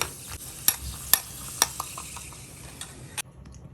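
Cashews and raisins fry in hot ghee in a pan on medium heat, a soft continuous sizzle broken by a few sharp clicks of a spoon stirring against the pan, close and fairly quiet with no talking.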